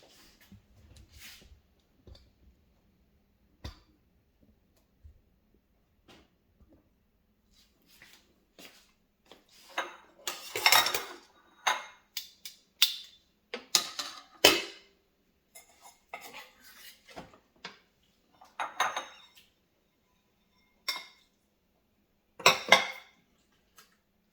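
A metal spoon scrapes and clinks against the ceramic crock of a slow cooker while juice and fat are scooped out of pulled pork. The clatters come in irregular bursts with quiet pauses between them.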